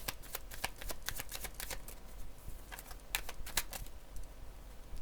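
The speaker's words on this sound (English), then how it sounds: "Let's get another card for a wake-up call." Tarot cards are shuffled close up in a continuous rapid patter of crisp riffling clicks that carries on for several seconds with no voice.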